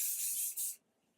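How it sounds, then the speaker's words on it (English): Dry oil hair spray, coconut-scented, hisses from a can in two quick close bursts, a brief pause between them, then silence. "And then I'm going to use this dry oil spray."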